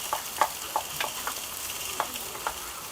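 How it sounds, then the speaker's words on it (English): Quinoa is stirred into vegetables sizzling in a hot pan, a steady crackle broken by several sharp scraping knocks of the spoon against the pan, with no talking. "Now what we're going to do is we're going to add the quinoa into the vegetables"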